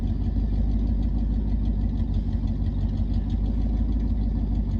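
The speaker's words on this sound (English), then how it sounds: "F150 sitting there idling" A 1989 Ford F150 EFI pickup truck idles steadily with a continuous low, rough engine rumble, close by and unbroken throughout, with no voices over it.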